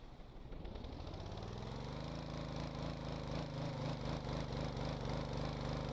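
A modular engine in the game Stormworks runs steadily as the clutch is engaged, a low mechanical hum that builds slightly and holds without stalling, fairly quiet and with no talking.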